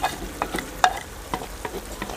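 Potatoes and chopped spring onions stir-fried in a pan for a village-style sabzi, with a steady low sizzle broken by several sharp scrapes and clinks of a spoon against the metal, close and alone.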